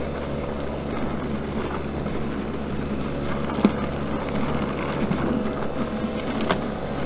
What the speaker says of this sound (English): Snowblower's still rocking.